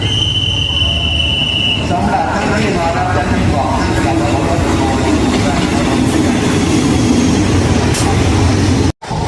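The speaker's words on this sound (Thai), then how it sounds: "ขบวน 261 นะครับ กรุงเทพหัวหินกำลังเข้าสู่สถานีบางซื่อเก่า นะครับ" Ordinary passenger train 261, Bangkok to Hua Hin, rumbles and clatters loudly into old Bang Sue station, a continuous heavy roll with brief squeals, while someone speaks over it.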